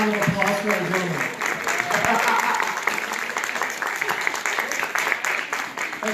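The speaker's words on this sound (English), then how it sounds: "A round of applause for our gentlemen." An audience at a debate event applauds steadily for several seconds, a dense patter of many hands clapping at moderate volume with a voice speaking over it.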